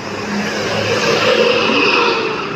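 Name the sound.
bus accelerating on the road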